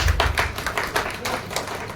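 An audience clapping at a magic fire-lighting show, a scattered, uneven patter of hand claps at moderate distance with no single steady rhythm.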